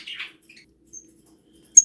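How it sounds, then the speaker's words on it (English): A pet bird gives soft, brief love chirps during breeding behaviour: a few faint, high twittering sounds scattered in near silence, ending in one sharper, louder chirp. "Because right now you hear that little chirping."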